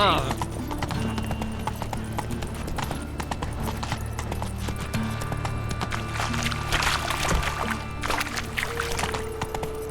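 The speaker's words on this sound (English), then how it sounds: "Run, Roach" Horse hooves clip-clop at a steady run in The Witcher 3, with continuous game music and character dialogue playing over the hoofbeats.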